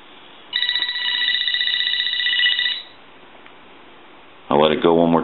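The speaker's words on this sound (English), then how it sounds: "And here's your piezo buzzer." AT&T 4200 cordless telephone's piezo buzzer rings in one steady, shrill, pulsing burst of about two seconds, loud and close, followed after a pause by a short burst of speech.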